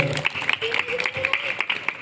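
Audience clapping at a school function for a woman teacher, brisk, close, uneven claps in a steady wash, with a voice carrying over it.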